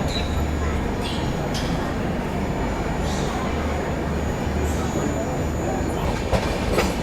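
Rajdhani passenger train on the Delhi to Chennai route, just departed Mathura, with a steady loud rumble of old coaches rolling on rails, faint clickety-clack and occasional wheel squeals throughout.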